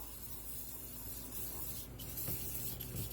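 Steady, close hissing of aerosol brake cleaner sprayed into a 2021 Kia K5 throttle body runs throughout, with a few faint clicks and knocks near the end.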